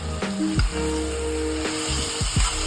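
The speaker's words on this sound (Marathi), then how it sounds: "भाजी टाकूया आता हे नुसतं आपण परतून घ्यायचं" Boiled cluster beans (gawar) sizzle steadily in hot masala oil in a pan, a loud continuous frying hiss with a few stirring scrapes and low thumps.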